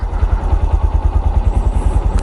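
A motorcycle engine idles steadily up close, its low rhythmic putter pulsing evenly with a light mechanical clatter.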